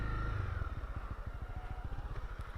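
A small motorcycle putters through a tight, low-speed turn, its engine pulsing in a rapid, uneven chug that dips and stumbles as it slows, close by and fairly quiet.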